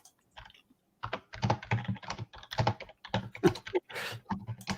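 Someone types loudly on a computer keyboard nearby, with dense, uneven clusters of sharp key clacks and thumps running for several seconds after a brief quiet start.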